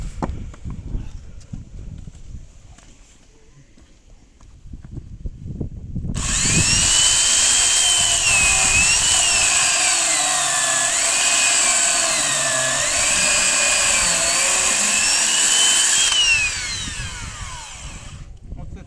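An electric Vityaz BP 3150 chainsaw starts up after a quiet stretch and runs loud and close for about ten seconds, its whining motor pitch wavering up and down before it cuts off.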